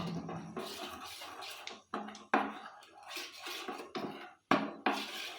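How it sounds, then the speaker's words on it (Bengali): Spoon scraping and clinking against a bowl while flour and water are stirred into a paste for Mughlai paratha, with irregular bursts of stirring and brief pauses, close and fairly loud. "এই যে জল দিয়ে দিলাম, মোটামুটি একটু পেস্টটা বানিয়ে নেব"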